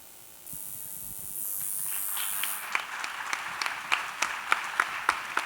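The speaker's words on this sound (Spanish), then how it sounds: "Que el aplauso sea para ellos" Audience at an education and inclusion congress at a cultural center claps, starting as scattered, individual claps that grow into a few distinct, fairly close hand claps, quiet overall after a stretch of hiss.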